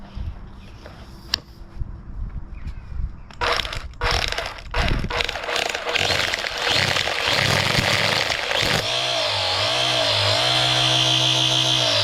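A Makita DUR181 battery string trimmer with a newly replaced motor and cutting line, close and loud, with a few clicks and short bursts before spinning up to a steady high-pitched whine.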